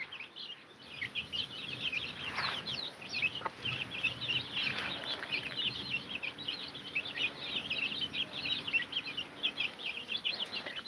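Chickens, including a hen dust-bathing, cluck and chirp softly in a steady, busy chatter of short calls, faint and close, with a few louder cries standing out.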